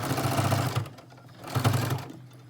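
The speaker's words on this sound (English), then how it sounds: "Now I'm going to start sewing, and as I sew, I'm going to hold on to this and pull my needle out at the same time" Sewing machine stitching a fabric face mask, two short bursts of rapid mechanical whirring close by, separated by a brief pause.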